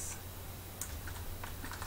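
Light, sparse key taps on a computer keyboard while playing Minecraft, soft and irregular over a steady background hum, with no talking.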